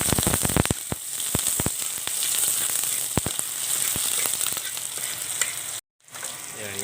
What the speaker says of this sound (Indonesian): Bawangnya kita goreng terlebih dahulu nih